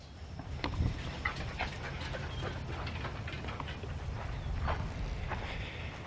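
Dogs on a farm pant and whimper close by in soft, continuous bursts over steady outdoor background noise, with no talking.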